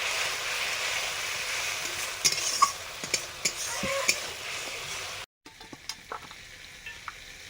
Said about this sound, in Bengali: চিলি পাউডার, জল দিয়ে মশলাটা কষে নিচ্ছি।